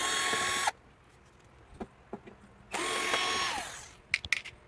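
A powered screwdriver or drill removes screws from the back of an LG 43-inch edge-lit LED TV, making two whirring bursts of about a second each with small clicks and taps of handling between and after them.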